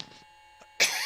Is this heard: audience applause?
no